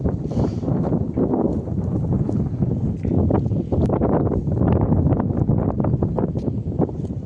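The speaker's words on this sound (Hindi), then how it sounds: "अंदाजा आप लगा सकते हो कितनी हवा है यहाँ पे।" Strong wind buffets the microphone in loud, continuous rumbling gusts, with no voices over the roar.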